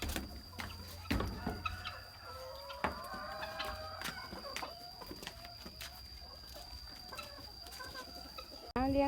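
Chickens cluck and chatter close by in a steady stream, with a few sharper calls standing out against a faint continuous hum.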